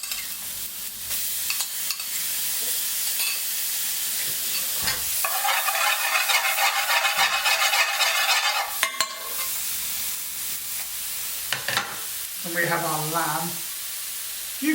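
Tomato puree and onion sizzle and hiss loudly in a hot pan while cooking lamb karahi, a steady frying crackle with a louder burst as the puree goes in and brief talk near the end.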